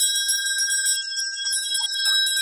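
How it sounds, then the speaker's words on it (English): A bell rings steadily at a pub or inn, a bright sustained tone with rich high overtones, loud and continuous throughout with no talking over it. "there's the bell"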